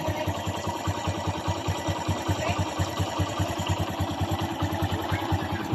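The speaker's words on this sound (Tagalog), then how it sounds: "Nawala ang ingay ng kanyang makina guys. Na-minimize ang ingay ng kanyang makina." Kawasaki Bajaj CT 100 motorcycle engine idling steadily with the clutch lever squeezed, a fast even thrum with regular pulsing beats, close and continuous with no knocking evident.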